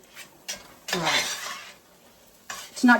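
A whisked flour and broth mixture poured into a pan of vegetables for chicken pot pie gravy, giving short bursts of sizzle and stirring scrapes separated by brief quiet gaps, close up.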